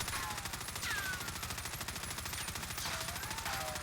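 A Fara rifle emptying a full magazine in Call of Duty Warzone, one continuous fast rhythmic stream of shots at steady loudness, with faint ringing tones sliding over the top.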